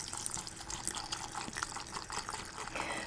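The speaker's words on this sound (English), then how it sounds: "I'm going to fill it with water." Water running steadily into a jar of fermented turmeric with salt, a continuous close splashing and bubbling fill that holds at an even level for a few seconds, no voices.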